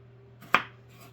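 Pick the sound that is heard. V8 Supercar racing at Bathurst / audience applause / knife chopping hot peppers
knife chopping hot peppers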